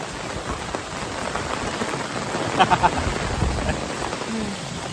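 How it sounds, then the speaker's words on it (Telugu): Steady rain falls on surfaces outdoors, a dense even hiss throughout with a brief louder patter near the middle and faint voices underneath. "వర్షంలో హాయిగున్నది"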